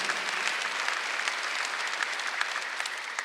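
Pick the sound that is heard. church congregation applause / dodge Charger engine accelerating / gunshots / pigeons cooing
church congregation applause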